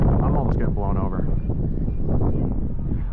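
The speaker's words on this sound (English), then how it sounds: "Whoa, that's 30-mile-an-hour gust right there. I'm almost getting blown over." Strong wind gusts at an RC flying field buffet the microphone with loud, steady low roaring, while a person talks over it.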